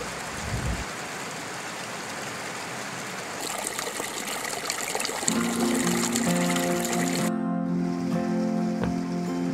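A river flows through the Valley of Flowers, a steady broad rush of water. It lasts the whole clip and is joined partway by a louder, denser splashing, with a low tonal hum near the end.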